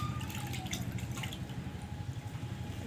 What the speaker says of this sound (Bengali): আমি জল নিয়ে নিয়েছি আর জলের মধ্যে আলতো আলতোভাবে ধুয়ে নেব